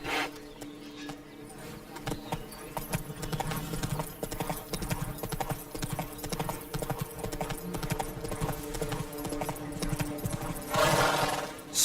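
A horse gallops with a steady, rapid clip-clop of hooves in The Witcher 3 video game, loud and continuous, with a brief whinny and faint game voices in the background.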